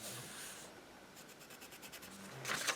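A pen or marker scratches across paper for a junk journal cover in short, quiet strokes, with a brief rhythmic scribbling burst and a louder rub at the end, close and with no talking.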